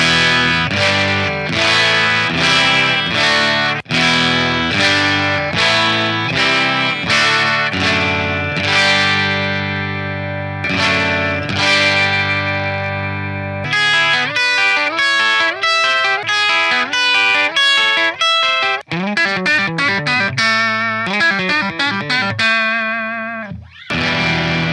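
Distorted electric guitar played on a parts-built Caster with pickup height matched to another guitar, heard as loud, close chords and single notes in rhythmic bursts, sustained ringing passages and fast picked runs, with no voices.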